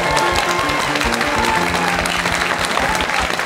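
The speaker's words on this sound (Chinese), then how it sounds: "掌声。" An audience on a Taiwanese TV variety show applauds loudly after a performance, with a dense patter of clapping over a beat of background music and some chatter.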